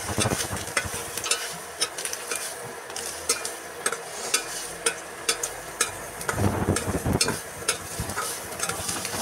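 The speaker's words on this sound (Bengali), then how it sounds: "ডিমটা একটু কড়া করে নিচ্ছি, কড়া করলে ভালো লাগে খেতে।" An egg frying in a pan until crisp at breakfast, with steady close sizzling and crackling broken by sharp clicks and scrapes of a utensil, and a louder burst of spitting near the end, alone without talk.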